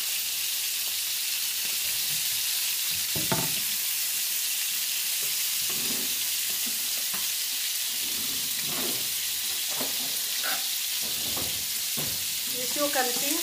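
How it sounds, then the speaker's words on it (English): Spanish meatballs frying in a pan with a constant loud sizzle, broken by occasional stirring knocks and scrapes, with faint voices now and then. "I will fry a little bit like that"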